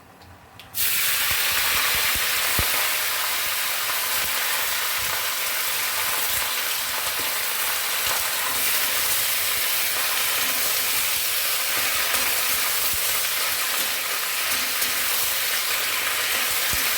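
Spinach hits a hot pan for biulir dal, setting off a sudden loud hiss that settles into steady, unbroken close-up sizzling and frying.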